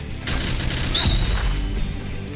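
Gunfire in the video game Point Blank, a sudden loud burst followed by sustained rumbling shots and a brief whistling tone, close and dense with no talk.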